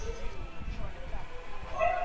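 A dog yips and barks faintly in the background while people talk over a live game broadcast.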